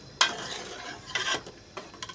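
Masoor daal being stirred in a pot with the lid taken off, a few scraping, clattering strokes of a spoon against the pot, separated by short pauses and close to the ear.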